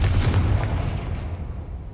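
The Confringo fire spell goes off in Hogwarts Legacy. A deep, booming blast is followed by a rumbling decay that fades over about two seconds.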